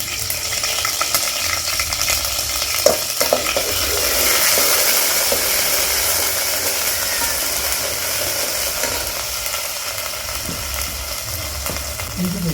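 Ginger paste frying in hot sea oil, a dense steady hiss of sizzling with a few stirring knocks, close up and fairly loud throughout.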